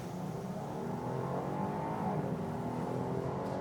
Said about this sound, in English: Let's brake boost launch it.